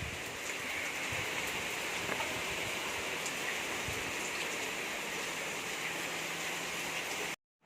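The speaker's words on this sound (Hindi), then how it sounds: "बारिश होना स्टार्ट हो गया" Heavy rain falls steadily, with water pouring hard off a roof and streaming down a wall, a constant dense hiss with no voices.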